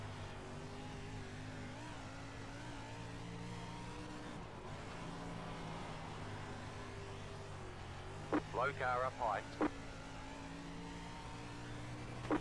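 Sprint cars race around an oval track in the iRacing video game, a steady drone of engines running throughout beneath a spotter's radio calls and other talk, with a brief rise in revving near the end.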